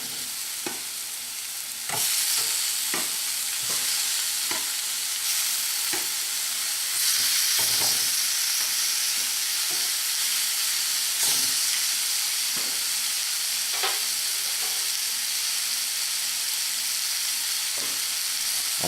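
Pork tenderloin and peppers sizzle loudly in a hot pan, a dense continuous hiss punctuated by frequent sharp crackles and pops, growing slightly louder after the first couple of seconds as more food goes in.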